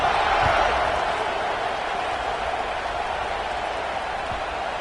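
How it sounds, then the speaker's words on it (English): Football stadium crowd keeps up a steady, dense roar and murmur after a score, loud and continuous throughout with no distinct cheers standing out. "this crowd is buzzing after that last score"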